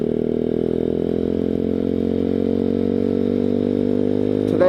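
Small single-cylinder engine of a Grom clone mini motorcycle idling steadily up close, a constant buzzing drone with strong harmonics that holds level for several seconds before a brief rev rises at the very end.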